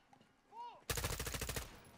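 Close, rapid automatic gunfire from the Modern Warfare 2 campaign video game erupts in a dense burst of about a dozen shots, following a brief electronic tone and a short vocal sound.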